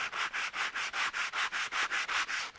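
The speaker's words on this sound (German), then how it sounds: "kannst du auch wunderbar das mit so einem Schleifschwamm machen und kannst hier drin arbeiten" Wood is hand-sanded with a sanding sponge in steady back-and-forth strokes, about a dozen rhythmic, close-up rasping scrapes with no other sound.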